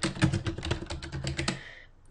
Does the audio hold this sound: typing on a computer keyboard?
yes